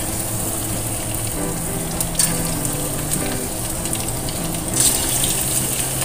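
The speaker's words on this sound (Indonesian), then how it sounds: "Panaskan minyak, kemudian goreng ayamnya." Chicken frying in hot oil, a loud, steady sizzle and crackle that fills the whole clip with no pauses.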